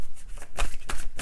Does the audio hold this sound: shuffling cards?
yes